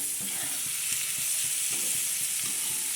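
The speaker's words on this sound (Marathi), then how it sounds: "हा तेल सोडलंय चमचमीत असा ठेचा होणार आहे आपला" Green chilies and chopped onion fry in hot oil for a spicy onion thecha, a dense continuous sizzle up close with faint soft stirring scrapes beneath, no voices.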